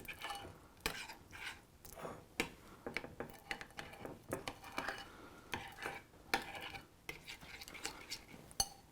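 Someone stirs a cooling fudge mixture in a pot, making quiet irregular scrapes and clinks of a utensil against the pan, close up, with soft talking in between.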